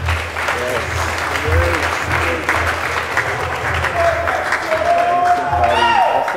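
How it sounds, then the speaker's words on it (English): A wedding congregation claps for the newlyweds, dense continuous applause with scattered cheers, while voices talk and call out over it. "Oh, clap for them."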